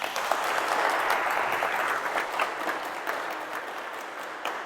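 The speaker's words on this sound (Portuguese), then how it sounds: "Será que essa história vale uma salva de palmas" Audience applause at a Catholic preaching event on a mission in the USA, a dense steady wash of many hands clapping throughout, loud and continuous with no voices.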